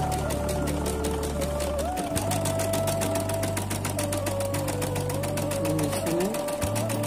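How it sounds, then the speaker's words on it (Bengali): An automatic embroidery sewing machine stitches a sleeve with a rapid, steady mechanical chatter and a low motor drone, close and continuous, briefly dipping around two seconds and again near the end. "আজকে ম্যাজিক মেশিনে নতুন একটা হাতা করতেছি, অটোমেটিক কাজ করতেছি।"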